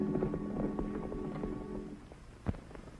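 Horse hooves clip-clop in the 1940 western film The Border Legion, a quick uneven patter under a sustained musical tone, ending with one heavier thud near the end.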